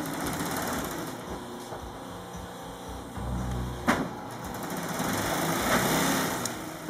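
A sewing machine stitches the top of a pillow, a steady mechanical whir that runs continuously with slight swells and one brief knock midway, fairly close and with no talk over it.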